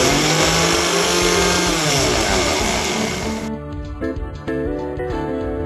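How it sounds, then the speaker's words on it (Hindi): A mixer grinder blending almonds whirs loudly and steadily nearby, its motor whine shifting and thinning partway through. "इन सब को हम मिक्सी में मिक्स करेंगे"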